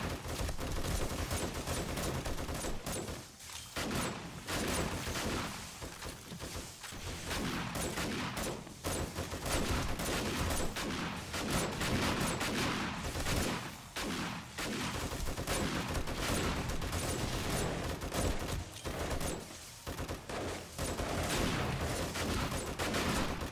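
Sustained heavy gunfire in 7 Days to Die defending a mansion fortress from zombies, dense overlapping bursts of shots pounding almost nonstop, loud and close, with brief gaps.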